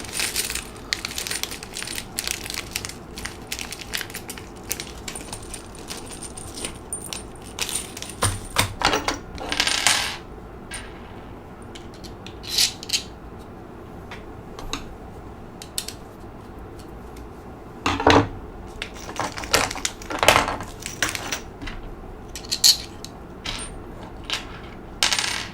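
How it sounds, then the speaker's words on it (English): Small M3x30 metal bolts clinking and rattling as they are picked up and handled during assembly of an LDO Voron Trident 3D printer, scattered light metallic taps and short jingling bursts, close and fairly quiet. "So now I put the M3 by 30 bolts in through the top to hold it all together."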